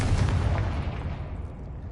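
A Confringo spell explosion in Hogwarts Legacy inside a crypt chamber: a heavy, booming blast with a deep rumble that fades out over about two seconds, with no talk over it.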